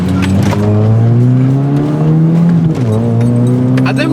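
Small Chevy S-10 pickup truck fitted with a new muffler, engine loud and close as it revs and climbs in pitch, dips briefly, then pulls up again.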